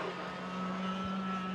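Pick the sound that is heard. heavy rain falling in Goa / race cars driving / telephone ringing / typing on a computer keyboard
race cars driving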